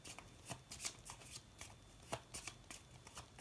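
Tarot cards being shuffled by hand, a quick run of soft, close riffling snaps and slides in an irregular rhythm, with no talking over them.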